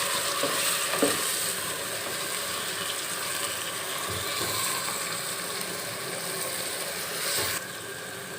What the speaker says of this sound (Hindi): अब हम इसमें टमाटर को ऐड करेंगे और टमाटर को अच्छी तरह गलने देंगे